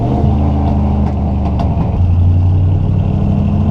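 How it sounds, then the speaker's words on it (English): A three-on-the-tree manual car engine revs up to about 3000 RPM after a downshift on a hill, a steady loud mid-low drone that rises and holds near the end with no talk. "So I'm going to downshift, pull it up to about 3 grand."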